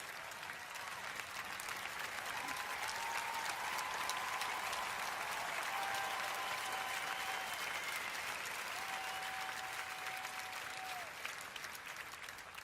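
Audience at the Invictus Games applauding throughout, a dense continuous roar of clapping with faint cheering and whistles carrying across the crowd.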